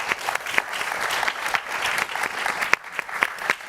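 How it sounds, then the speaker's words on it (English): A conference audience claps for the presenters in steady, continuous applause, with a few sharper individual claps standing out over the crowd. "join me in a round of applause for all our wonderful presenters"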